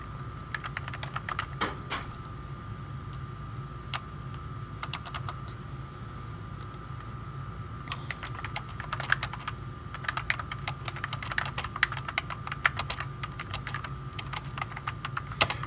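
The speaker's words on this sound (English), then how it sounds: "So you can just begin typing their names." Typing on a computer keyboard, with quick irregular key clicks in bursts and short pauses under a steady low hum, close and fairly quiet.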